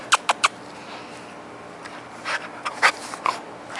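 Huskies at a water fountain, with a few quick splashy lapping bursts at the start and a later cluster of sniffs and water patter, close by over a steady outdoor hiss.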